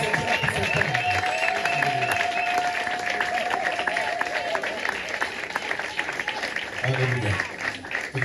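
A congregation at a French-language Sunday worship service claps hands in praise. The clapping is dense and sustained, with voices and cheering over it.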